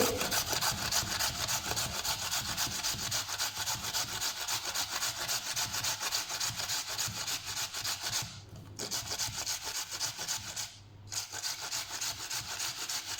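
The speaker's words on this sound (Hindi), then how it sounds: "एक और पोटैटो लेंगे, इसको भी इस तरह ग्रेट कर लेंगे।" Steady rhythmic rasping of a potato scraped back and forth on a grater, continuous and close, with two brief pauses.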